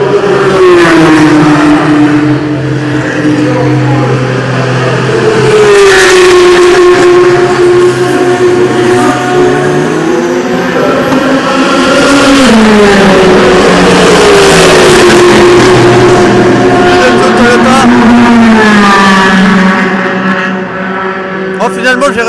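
A Porsche race car at 24 Hours of Le Mans 2016 qualifying, a loud engine roar with rising and falling pitch as it accelerates and passes, with a crowd voice talking over it.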